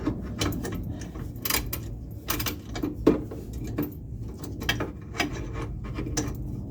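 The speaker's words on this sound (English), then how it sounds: "I'm gonna try using the depot socket just so it raises it just a hair." A deep socket wrench turns on a Bimmerworld rear adjustable sway bar link on a BMW E36, giving close, irregular metallic clicks, ratcheting ticks and gritty scraping in uneven bursts, with no talking.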